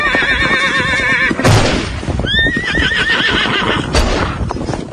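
A horse in a historical drama about Raja Mahendra Pratap Singh fleeing Russian soldiers: two loud, close, wavering neighs over a busy bed of hoofbeats and action noise, with a sharp crack near the end.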